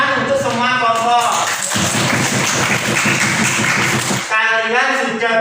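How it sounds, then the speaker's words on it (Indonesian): Classroom applause for all the student groups in a primary maths lesson, a loud burst of children clapping in the middle, with voices talking before and after it. "kita beri tepuk tangan untuk semua kelompok"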